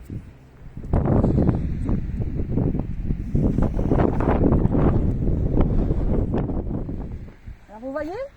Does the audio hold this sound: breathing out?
no